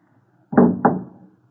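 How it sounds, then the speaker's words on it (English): Gun dropped on the floor in a radio drama, two quick hard thuds close together with a short fading tail, loud against a silent background. "Drop the gun."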